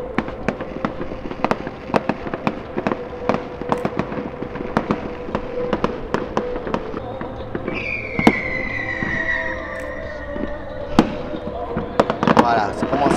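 Fireworks display fired over a river near Avignon, with repeated sharp bangs and crackling bursts at an irregular rhythm from a moderate distance, some whistling streaks midway, and crowd voices murmuring underneath.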